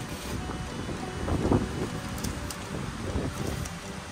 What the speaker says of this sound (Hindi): और हवा चल रही है तूफानी।